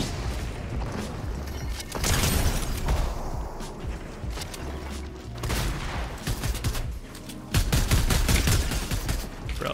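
Video game gunfire during a solo tournament rattles in loud volleys and rapid bursts, with sharp shots and booms crowding together and pausing briefly between clusters.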